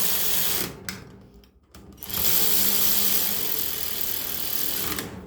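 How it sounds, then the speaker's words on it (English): Rapid ratchet clicks while tightening turbo bolts on a 2017 Mercedes Sprinter 2.1L, close and continuous, briefly pausing then resuming as a fast mechanical rattle. "The last bolt down here. Okay, just tighten them slightly."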